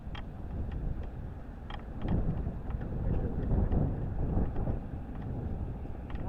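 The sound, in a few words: wind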